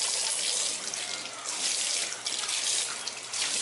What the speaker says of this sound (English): I always have to wash my hands before I cook.